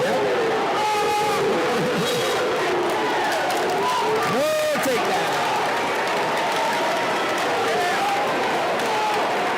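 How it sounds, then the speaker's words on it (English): A crowd at a Missouri high school wrestling dual meet cheers and roars continuously, loud and dense, with shouts and announcer-style voices talking over it. "The crowd's in it now, baby!"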